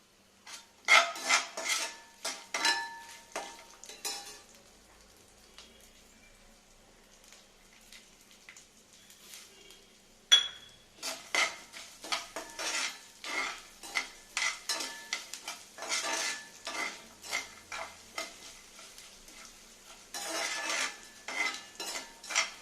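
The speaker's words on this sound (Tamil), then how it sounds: "நல்லா ஃப்ரை ஆகட்டும். எதுவும் அடி பிடிக்கக்கூடாது, நல்லா கோல்டன் ஃப்ரை ஆகணும்." Mutton salna masala frying in a pan, with close, repeated spoon scrapes and clinks against the metal over a soft sizzle, in uneven bursts with a quieter pause midway.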